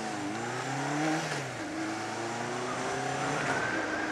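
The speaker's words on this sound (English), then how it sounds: "because it's a twin, it's all unforgiving and grunty and so guys, it's a bit thumpy" A Suzuki GS500 twin-cylinder motorcycle engine revs close by, its pitch rising and falling through several throttle sweeps with a grunty, thumpy tone.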